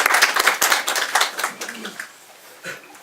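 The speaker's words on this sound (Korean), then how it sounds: "예, 박수 크게 한번 주시죠." Applause at a Busan education office New Year press conference, scattered sharp claps from a small group in a room, loud at first then thinning and fading out with a last few isolated claps.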